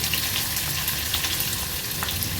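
Asafoetida, curry leaves and half an onion sizzle in hot oil, after mustard and cumin seeds, for a Maharashtrian vegetable dish; a steady, close crackling fry with fine spitting continues alone without a break.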